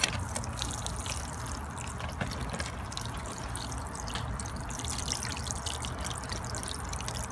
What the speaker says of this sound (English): and going to water it.